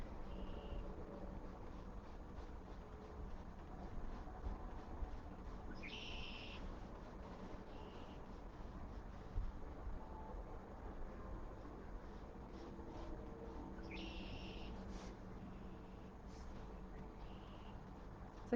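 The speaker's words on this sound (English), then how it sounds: "It's like a bunch of birds chirping outside." Birds chirp outside in full force, with short high calls repeating over a steady background hum, fairly faint and continuous with no talking.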